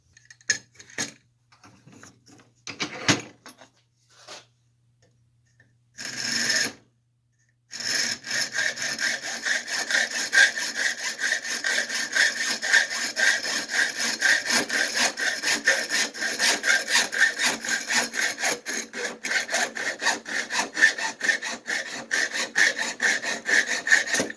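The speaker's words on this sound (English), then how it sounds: "take a block of wood, cut holes in it from 2 directions" A hand saw cuts holes into a block of wood clamped in a vise, starting with a few scattered scrapes and a pause, then settling into a long run of rapid, even rasping strokes close by.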